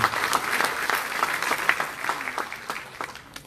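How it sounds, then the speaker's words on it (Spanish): Applause for a professor at a university diploma session on peace culture in Florencia, Caquetá: a room of people clapping in a brisk, scattered patter that starts strong and thins out toward the end. "Un aplauso para el profesor Orlando."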